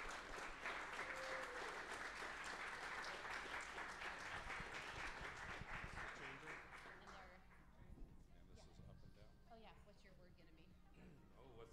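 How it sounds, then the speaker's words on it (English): An audience at an astronomy talk in a San Antonio bar applauds a guest speaker, loud sustained clapping for about seven seconds that thins to scattered claps amid murmuring voices. "Let's give him a round of applause"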